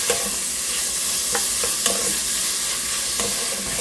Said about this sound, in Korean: 그 불은 약불인 상태로 해갖고 살살 볶아요.